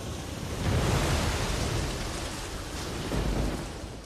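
In a thunderstorm scene from the film Cast Away, heavy rain pours steadily while rolling thunder swells and rumbles twice, loud and close.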